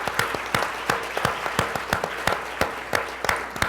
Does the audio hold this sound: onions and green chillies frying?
no